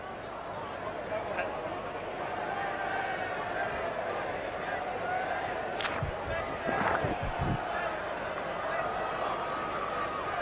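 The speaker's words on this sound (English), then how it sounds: "Oh, the crowd are loving it, and so am I." Stadium crowd at a cricket match in Hobart roars in a steady, loud wash of cheering, with excited commentary voices talking over it throughout.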